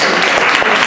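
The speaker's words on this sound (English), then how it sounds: "Another round of applause for Raha." A brief, loud burst of audience applause at a community event, dense and steady with no pauses.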